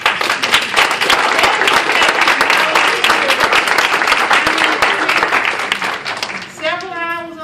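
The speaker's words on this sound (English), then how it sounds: "let's give City Connections a round of applause" Audience applause at an outdoor senior picnic for volunteers: dense, loud clapping from a crowd sustained for several seconds, then fading as a voice begins speaking.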